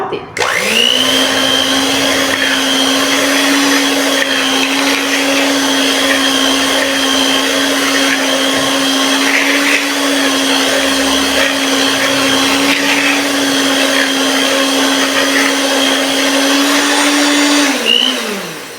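A new stand mixer beats liquid donut dough in a steady, loud motor whine that holds one pitch for about eighteen seconds before spinning down, with no talking.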